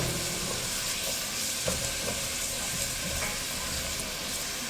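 Onions sizzle in hot avocado oil in a pan, a steady close crackle with a few soft clicks of stirring.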